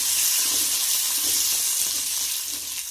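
Coconut, tamarind, onion and salt sautéing in a pan, a steady close sizzle and frying hiss with light stirring scrapes, no talk.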